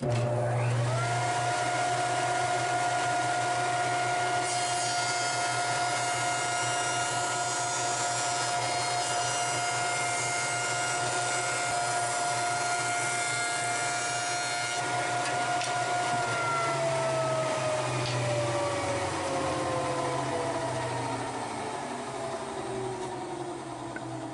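Jointer machining the edges of wooden boards in a workshop: a loud, continuous motor whine and cutterhead roar, close and steady, easing off slightly near the end as the machine winds down.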